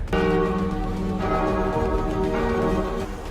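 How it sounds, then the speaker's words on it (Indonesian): A church bell rings repeatedly with rich, sustained metallic tones, strikes overlapping as the resonance hangs in the air. "membunyikan lonceng gereja"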